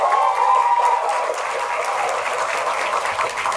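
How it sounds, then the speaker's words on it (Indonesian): Applause from an audience at a Maluku provincial language ambassador pageant, honoring a contestant: a steady wash of many hands clapping, moderately distant and sustained throughout. "Kita kasih tepuk tangan sekali lagi untuk Syawal."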